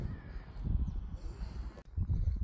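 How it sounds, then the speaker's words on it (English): Crows and jackdaws calling over a field in the English countryside during pest control shooting, a continuous murmur of caws close by under a steady low rumble, with a brief break near the end. "there's been absolutely loads of crows and jackdaws flying about, as you can hear them"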